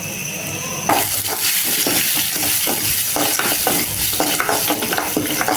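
Chana dal, white sesame and peanuts being stirred together in hot oil in a pan for crab gravy, a steady loud sizzle with continuous scraping of the spoon, no voices.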